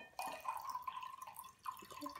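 Water is poured into a cup, a faint, thin trickle with a light ringing tone running for about two seconds, quiet and close.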